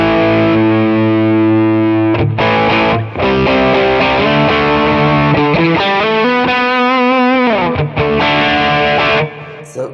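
Fender Stratocaster electric guitar runs through a J.Rockett HRM overdrive pedal with the gain raised, playing a crunchy rhythm part of sustained chords and bent notes that ends in a ringing fade, loud and close.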